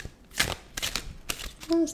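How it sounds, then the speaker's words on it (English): A deck of tarot cards is shuffled by hand in a few quick riffling bursts, crisp papery flutters heard up close, with a brief voice mixed in. "cards and have a quick shuffle and then see what comes out"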